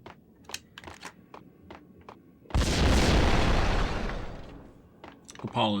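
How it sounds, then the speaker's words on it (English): A grenade goes off in Max Payne, a single loud boom that bursts in after quiet clicks and footsteps and then decays into a long, rumbling tail. "Grenade, grenade, grenade."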